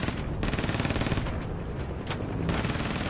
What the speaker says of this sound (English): Somebody shot at me.